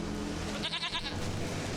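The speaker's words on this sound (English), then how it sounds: "It's clearly a goat" A goat in The Witcher 3 lets out a short, wavering bleat over steady game background noise, near and fairly loud.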